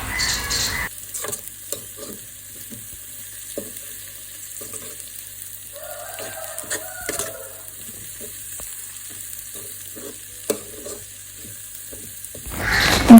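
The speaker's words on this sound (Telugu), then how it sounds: "మేము ఇప్పుడు ఏమీ వేయకుండా నార్మల్గానే చింత చిగురు కర్రీ వండుతున్నాం" Tamarind leaf curry fries and is stirred in a pan, giving a steady close sizzle broken by repeated scraping strokes of a spoon, with a faint bird squawk partway through.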